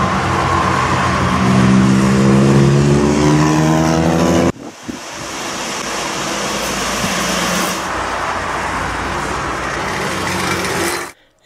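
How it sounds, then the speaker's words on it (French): A trike motorcycle drives past at a roundabout, its loud engine drone sweeping by close, then fading under traffic and wind noise until it cuts off near the end. "Elle est pas belle, la trike."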